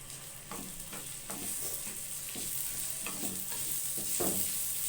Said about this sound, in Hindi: अभी आप देखिएगा इसे तेज आंच पे हम इसे पकाते हैं।